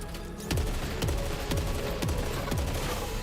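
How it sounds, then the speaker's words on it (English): Burst-fire pistol shots in the video game Saros, fired in five quick bursts at a steady half-second rhythm, each crack followed by a descending whoosh, loud and close over a constant ambient game hum. "It's like a burst fire pistol."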